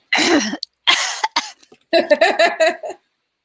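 A person coughs several times in short bursts, close and loud, with a pause between the first coughs and a quicker run of coughs after.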